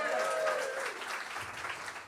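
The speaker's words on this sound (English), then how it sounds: "while you keep the applause going" Audience applause at a live cabaret show at 54 Below, a steady wash of clapping that fades slightly over two seconds, with a bright tone trailing off at the start.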